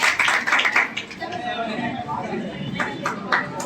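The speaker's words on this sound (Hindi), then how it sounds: "जरा जोरदार तालियों से स्वागत कीजिए।" An indoor audience gives a modest round of clapping at an educational event, loose patters mixed with crowd chatter and people talking throughout.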